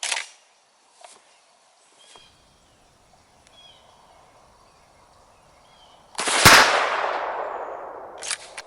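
A single loud, close blast from a Stoeger M3000 shotgun firing 00 buckshot at a seven-yard choke test, with a long decaying echo. A few faint clicks and handling noises come first.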